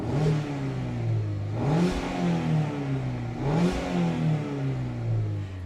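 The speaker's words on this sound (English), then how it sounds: "Here's the exhaust note." A 2021 Mazda MX-5 Miata RF engine revs twice in quick bursts from idle, its exhaust note rising sharply then dropping back to a throbbing rumble, loud and close with no talking.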